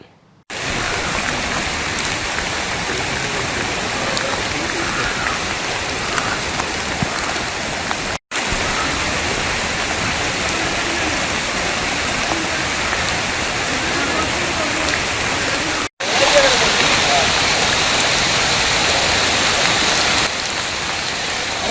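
Heavy rain pours down steadily in the Thrithala area of Kerala, flooding many places, a dense, continuous hiss of water hitting surfaces, loud and unbroken throughout.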